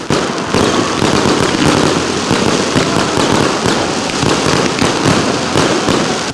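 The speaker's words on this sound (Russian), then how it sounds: "Завершился День города праздничным салютом, который украсил небо разноцветными огнями." City Day celebration fireworks in Odintsovo burst continuously in a dense, loud barrage of crackles and booms, one blast rolling into the next without pause.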